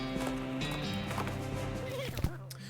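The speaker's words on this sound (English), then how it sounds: "The horse trots off and leaves the binoculars behind." Horse hooves clip-clop as a horse trots off in the West of Loathing video game, a short rhythmic patter lasting a couple of seconds, mixed with game music and a brief whinny-like sound near the end.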